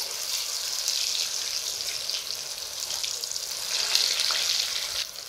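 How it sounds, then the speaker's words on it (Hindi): Mustard greens pakoras sizzling steadily in hot oil on a high flame, a continuous close crackling hiss with no talk. "इस तरीके से हम पकौड़े को गर्मा गर्म तेल में डालेंगे"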